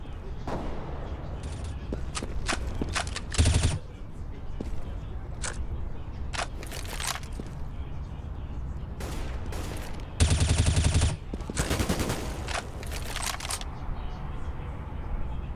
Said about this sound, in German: Schöner Schuss von JW.